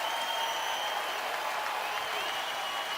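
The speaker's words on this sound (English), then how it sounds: "And a crowd saluting R.J. Williams." A basketball arena crowd applauds and cheers steadily for R.J. Williams during a New Mexico versus Boise State college game, a dense sustained roar of clapping with no pause.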